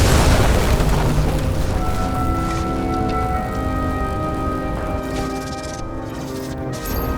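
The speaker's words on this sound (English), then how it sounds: "That's what caused the explosion." Flooded, burning transformer exploding in the video game Nobody Wants to Die, a loud heavy boom that decays into a long rumbling, ringing tail with faint crackles, no voices.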